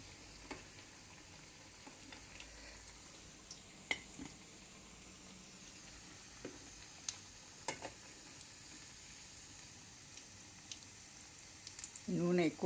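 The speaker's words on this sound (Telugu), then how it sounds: "ఇలా మీడియం ఫ్లేమ్లో పెట్టి వేయించుకోవాలండి" Chana dal vadas deep-frying in oil on a medium flame, a steady soft sizzle with occasional light clinks from a utensil and a louder stir near the end.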